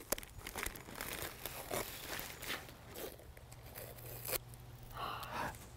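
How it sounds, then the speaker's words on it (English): Tape and a trash bag being slowly peeled and lifted off a boot, soft crinkling and tearing rustles over several seconds, close and fairly quiet. "And then you can slowly lift off all the tape."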